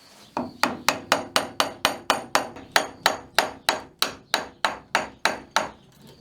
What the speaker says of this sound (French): Mon ciseau, mon maillet préféré.